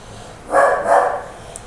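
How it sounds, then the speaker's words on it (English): A single dog barks twice in quick succession indoors, a short close-by woof-woof against a quiet room. "that's just my dog here."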